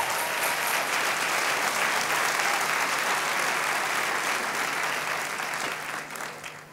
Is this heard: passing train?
no